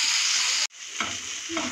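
Onions and masala sautéing for mushroom gravy in a pan: a close, steady sizzle, briefly cut off, then resuming with scraping stirs of a spoon against the pan.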